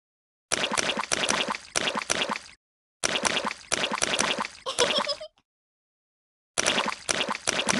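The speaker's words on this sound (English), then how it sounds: "Look at all that splashing." Cartoon splashing in muddy puddles in a Peppa Pig video game: bursts of wet squelching splashes come in rapid groups, loud and close, separated by clear silent gaps.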